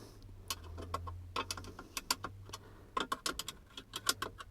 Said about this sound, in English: So we'll use that to tighten these 4 bolts.